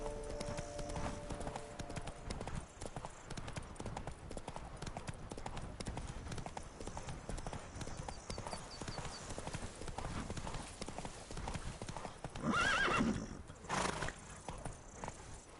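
Horse hooves and neighing in The Witcher 3, a steady rapid clip-clop of galloping hooves throughout, with a loud whinny near the end over game ambience.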